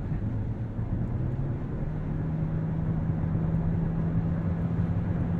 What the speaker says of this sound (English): I could hear the four-cylinder come on